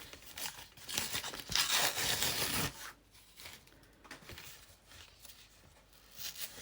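An old hanging file folder is pulled open: crinkly paper tearing and rustling, loudest early on, then quieter shuffling and handling noises.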